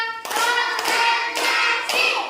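Schoolchildren do a concentration clapping routine: four sharp, evenly spaced group claps ring out close by, interleaved with voices chanting in unison.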